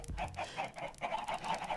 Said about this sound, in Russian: Выпустите куриц на свободу.